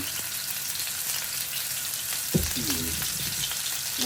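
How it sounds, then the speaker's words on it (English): Meatballs frying in a pan give a steady, close sizzle, with a brief clatter of movement and a faint voice partway through. "so they're sizzling"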